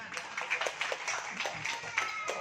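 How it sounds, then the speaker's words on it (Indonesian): An indoor audience applauds with a brief run of sharp, uneven claps at moderate volume, partly over a voice speaking. "Beri tepuk tangan."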